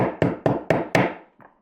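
Hammer tapping a raised nail head down into a wooden 1x6 board: four sharp, evenly spaced knocks, close and fairly loud, followed by one fainter tap after a short pause.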